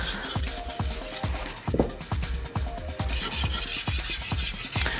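A kitchen knife stroked back and forth across a fine-grit whetstone, steady rhythmic rasping scrapes about three per second, close and dry with no talking.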